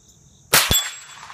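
A Ruger 10/22 rifle fires once and the bullet hits a small steel plate, giving a sharp crack followed by a ringing metallic clang that decays slowly, heard outdoors with no talk.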